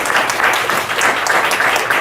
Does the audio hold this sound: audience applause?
yes